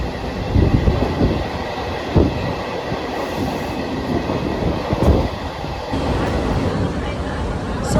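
Uran local suburban train in Mumbai running between stations, with a steady rumble of wheels and carriages on the rails, occasional clacks and brief louder bumps, and a faint high whine throughout.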